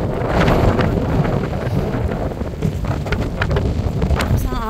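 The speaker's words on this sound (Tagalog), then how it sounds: "Ang lakas ng hangin." Strong wind roars and buffets the microphone continuously at a seashore with rough waves, with a low rumbling blast and gusty surges throughout.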